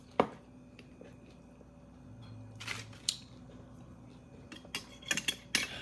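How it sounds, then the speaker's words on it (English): A spoon scoops dip onto nachos: quiet clinks and scrapes against the dish come in scattered bursts, with a sharp tap at the start and a cluster of clatter near the end. "I'm gonna spoon because I might have to scoop this stuff on here"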